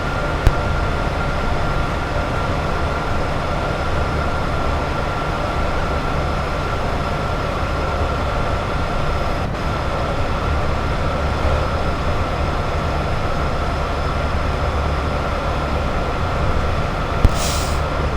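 A Class 87 electric locomotive hauls a London Euston to Carlisle train on the West Coast Main Line over Shap, a steady loud rumbling roar of wheels and traction noise with faint clicks, continuous throughout without talk.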